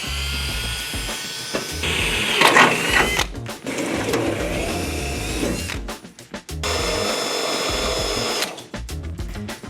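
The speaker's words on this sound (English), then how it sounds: "I'll drill out for a 3/8 bolt." Power drill boring a hole for a 3/8 bolt during a car build, with bursts of high whirring and grinding that start and stop in several loud runs and brief pauses.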